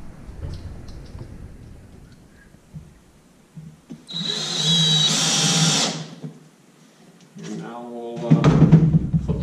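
A power drill drives screws into hockey sticks, with one sustained whirring burst in the middle of the clip and a second shorter burst near the end, close by, with handling noise and quiet gaps between.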